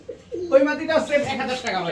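Pakistani Teddy pigeons coo with soft, rounded calls at a market stall, heard close and running across the short stretch while people talk over them.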